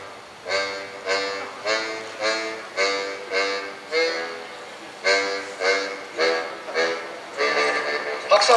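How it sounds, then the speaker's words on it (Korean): A bass harmonica, blow-only and weighing about 3.3 kg, plays a steady rhythmic line of short, evenly pulsed low notes, each swelling and fading, with a brief pause midway and a brighter flourish at the close. "하모니카, 글자 그대로 저음을 내는 하모니카죠"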